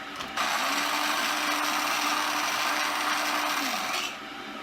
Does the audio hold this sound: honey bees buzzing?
no